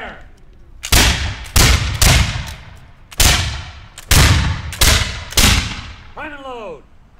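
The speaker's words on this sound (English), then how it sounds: "Take aim, fire!" Repeated musket volleys from 7th Virginia Regiment reenactors, about seven loud sharp blasts at irregular intervals, each with a rolling echo, ending with a shouted command.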